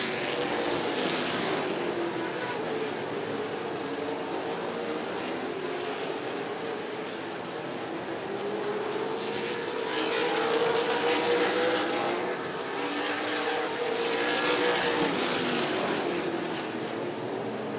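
Late model stock cars race in a feature at Rockford Speedway, their engines blending into a continuous loud roar that swells and fades as the pack sweeps past.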